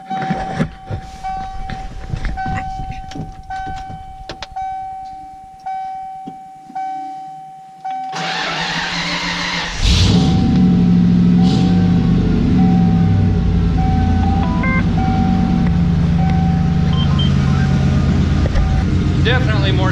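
A 1994 Ford F-150 with true dual exhaust and turn-downs settles into a steady, loud low rumble that starts partway through. Before it comes a quieter stretch of sharp clicks and a faint steady tone.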